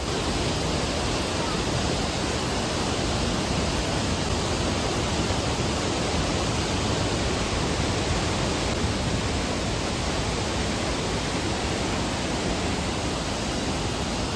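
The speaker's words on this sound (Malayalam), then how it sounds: "ആ വെള്ളം വരുന്ന സൗണ്ട് നിങ്ങൾ കേട്ടോ. അപ്പോൾ നിങ്ങൾക്ക് ഏകദേശം ഊഹിക്കാം അതിൻ്റെ ഫോഴ്സ് എത്രത്തോളം ഉണ്ട് എന്നുള്ളത്." Trümmelbach Falls, a powerful glacial waterfall plunging through rock in the Lauterbrunnen valley of Switzerland, gives off a loud, steady, unbroken roar of rushing water that fills the whole span without pause or speech.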